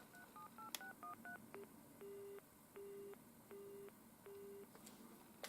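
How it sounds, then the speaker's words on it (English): Memory dialling tones on a 1988 ivory British Telecom Minstrel telephone: a quick run of short dialling beeps, then a repeating on-off tone in four evenly spaced pulses, clear and close with no talking. "we press memory and then the number that we have stored our desired telephone number under"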